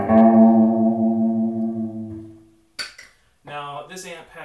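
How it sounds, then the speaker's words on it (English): An electric guitar played clean through a delay pedal set to emulate reverb, with sustained notes trailing off in a washy decay and brief picked notes after a pause. "Here's my delay pedal emulating reverb."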